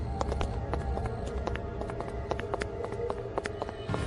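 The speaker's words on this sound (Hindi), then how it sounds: "कुछ ही दूर आगे जाने के बाद पीछे कदमों की आवाज सुनाई देती है" Quick, regular footfalls tap along over a steady low rumble, fairly close, with a brisk running rhythm throughout.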